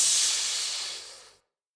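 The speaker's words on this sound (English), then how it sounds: "there was a loud hiss of steam as the small red-hot coin sank to the bottom" A small red-hot coin dropped into water gives off a loud, sharp hiss of steam that starts at full strength, thins out gradually and stops after about a second and a half, with nothing else heard.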